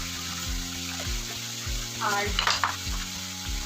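Potatoes, eggplant and garlic sizzle loudly in a frying pan, with steady hissing broken by rhythmic stirring clatter, while a voice speaks briefly.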